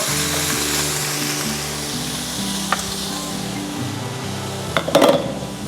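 Frying in a pan as pork goes into sautéed onions for pinakbet, the Philippine vegetable dish: a steady close sizzle runs throughout, with a couple of sharp utensil clinks against the pan near the end.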